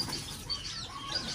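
A pigeon flaps its wings as it is let go, a soft fluttering burst close by over a rustling outdoor background, with faint chirps of other birds.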